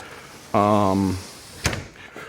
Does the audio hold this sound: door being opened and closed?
yes